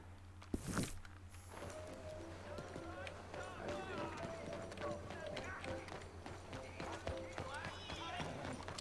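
A horse gallops in Red Dead Redemption 2, its hooves drumming a rapid, steady clip-clop through the whole stretch beneath a talking voice.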